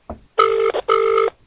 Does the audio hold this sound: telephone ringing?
yes